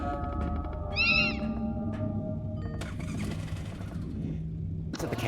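In the video game R.E.P.O., a cat gives a short wavering meow partway through. It sits over a low ambient rumble, followed by scattered clicks and bumps.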